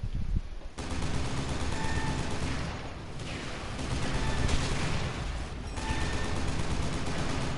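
Sustained, dense gunfire from a multiplayer shooter video game, loud continuous bursts layered like a firefight with machine guns, with brief dips but no pause over several seconds.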